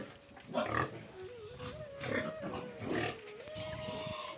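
Hampshire pigs grunt and squeal repeatedly at close range on a pig farm, a string of short rough snorts with a faint steady hum underneath.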